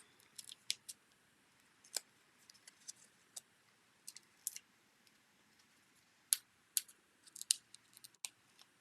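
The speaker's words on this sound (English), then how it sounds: "And then let's cut the end off of this." Scissors snip through the end of a card in a quiet room while a handmade card is being crafted, giving faint, crisp, irregular clicks and short cuts, some in quick clusters, with no voices.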